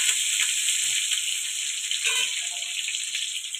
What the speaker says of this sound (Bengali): আলুটা একটু হালকা ভাজা ভাজা করে নেবো।